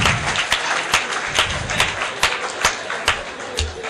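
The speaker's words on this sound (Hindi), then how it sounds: "अच्छा हुआ आपने ताली बजा दी" Audience at a Hindi poetry recital breaking into steady applause, dense rhythmic clapping from a large crowd, loud and close, lasting throughout.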